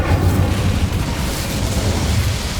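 An Incendio fire spell cast in Hogwarts Legacy, a loud continuous roaring, booming burst of flame that stays dense and steady throughout, with no talk over it.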